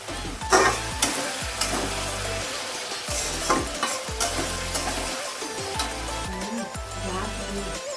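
Potato and carrot pieces frying in a pan for chowmein, with a loud continuous sizzle broken by repeated rhythmic scrapes and knocks of a spatula stirring the vegetables.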